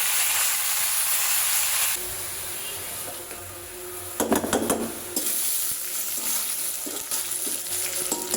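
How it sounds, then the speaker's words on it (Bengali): Spinach goes into a pan of chillies and onion already fried in oil. A loud, even sizzle drops and then flares into a burst of crackling and stirring clatter, settling back into a steady hiss. "এখানে আমার মরিচ পেঁয়াজটা ভাজা হয়ে গেছে, আমি শাক দিয়ে দেবো।"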